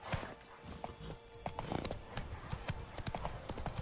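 Horse hooves from Roach in The Witcher 3 clip-clop at a steady walking rhythm, close and clear, with a brief whinny and faint game ambience beneath.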